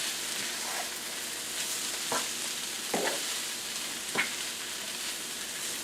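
Broccoli cooks in a hot pan to drive off its moisture, giving a continuous close sizzle with occasional brief stirring scrapes and spoon taps, no voices.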